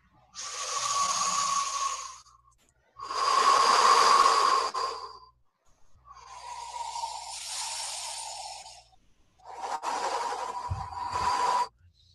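A person breathes out deeply four times in slow succession, each long, hissing exhale close and loud, separated by short quiet pauses.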